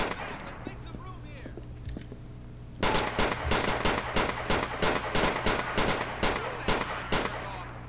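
Rapid gunfire in the GTA IV LCPDFR police mod game bursts in suddenly after a quiet stretch, a steady string of loud, evenly spaced shots running to the end over a low background hum.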